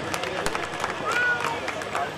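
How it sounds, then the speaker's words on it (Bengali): An audience at a Durga Puja Mahisasurmardini show claps in a busy, dense burst of many hands, with crowd murmur and voices mixed in. "একটা জোরে হাততালি।"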